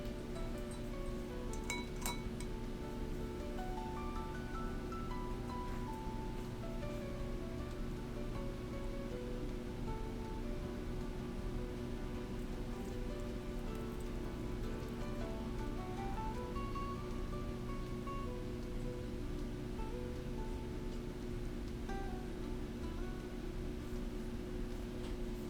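A simmered herbal syrup is strained into glassware. A steady trickling, pouring wash continues throughout, with a few light glass clinks near the start and no talking.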